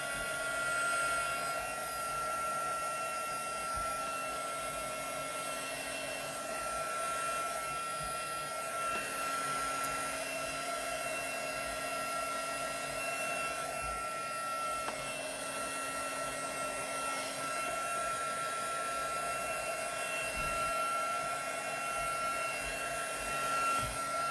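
A handheld dryer blows steadily to dry a chalk craft project, a crystal ball decoration, making a faint, even whooshing hum that runs throughout without any talking.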